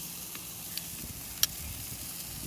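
Sausage sizzling on an outdoor grill, a quiet, steady frying hiss with a few faint pops and one sharper crackle near the middle.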